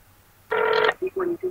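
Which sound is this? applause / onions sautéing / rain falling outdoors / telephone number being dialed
telephone number being dialed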